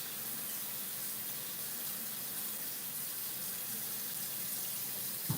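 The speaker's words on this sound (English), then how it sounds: "wash your potatoes" Tap water runs steadily and fairly loudly into a sink while potatoes are washed under it, a continuous hiss and splash that holds for several seconds with no talking.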